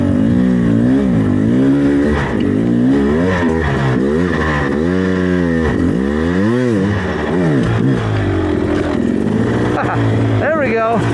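A Beta 300RR two-stroke dirt bike, 2024 Race Edition, crawls uphill in first gear, its engine loud and close with rising and falling revs and bursts of throttle across the whole stretch.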